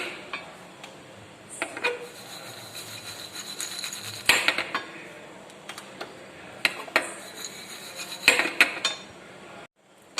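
Peanuts being roasted in a small metal tempering ladle on a home stove give off scattered metallic clinks and scrapes, with brief louder knocks of metal against metal at irregular moments.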